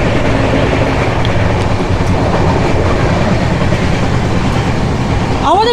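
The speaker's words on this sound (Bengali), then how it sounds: "আমাদের ট্রেন এই মুহূর্তে ক্রস করছে আপনার খানা জংশন।" The 12327 Upasana Express runs through Khana Junction on the Kolkata to Haridwar route, a loud, constant close rumble of wheels on track heard from on board.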